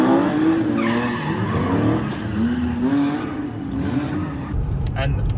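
A BMW E36 with a V8 skids with its tires squealing in long, wavering shrieks over a rumbling engine, the squeal rising and falling across several passes at close range.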